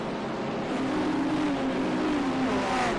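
GT3 race cars roaring off at the green-flag start on the Charlotte Roval, a dense, steady wall of engine noise with rising pitch as the field accelerates together.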